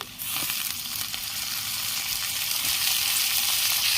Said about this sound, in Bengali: পেঁয়াজটা হালকা লাল করে ভাজা হয়ে গেছে কেটে রাখা ঝিঙেগুলো দিয়ে দিচ্ছি